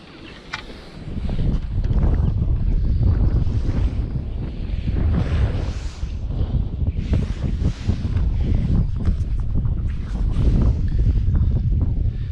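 Strong wind buffets the microphone continuously on a pier during winter float fishing, a loud low rumbling roar with gusty surges throughout and no voices.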